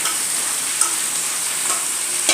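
Chicken for Radhuni chicken fries in spiced oil in a pan over high flame, making a loud, steady, close hiss with a few faint clicks of a utensil and no talking.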